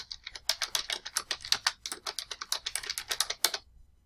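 Rapid, steady typing on a computer keyboard, a close run of crisp key clicks that stops abruptly near the end.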